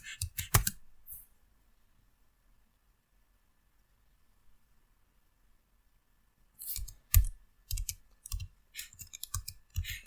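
Typing code on a computer keyboard: a short burst of clicking keys at the start, a long quiet gap, then a denser run of close, sharp keystrokes toward the end.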